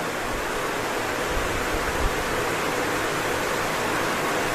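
Heavy rain falls outside a window as a steady, dense hiss that never lets up, close and fairly loud, with no voices.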